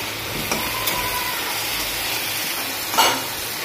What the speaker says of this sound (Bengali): এই দেখো চিংড়ি মাছ ভাজছি আমি।